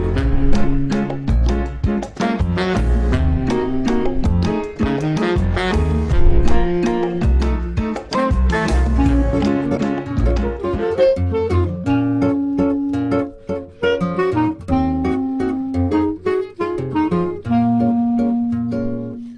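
A Brazilian groove played on guitar for a piece, with rhythmic strummed chords and melodic lines, loud and close, settling into sustained single notes toward the end.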